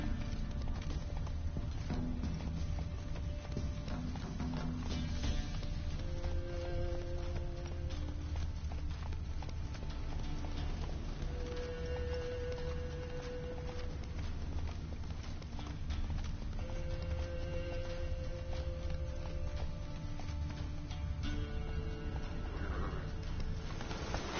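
Roach, a horse in The Witcher 3, gallops steadily throughout with continuous hoofbeats over a low rumbling game ambience, close and fairly loud, with faint tonal music-like notes drifting in and out.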